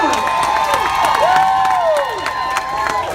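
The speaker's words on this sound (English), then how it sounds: "Let's everybody give those guys a round of applause." An audience at a pepper eating contest applauds and cheers the participants, with steady loud clapping mixed with crowd shouts and whoops throughout.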